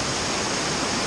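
Tegheria Falls roaring in the rainy season, a loud, dense, unbroken rush of falling water filling the whole scene with no pauses.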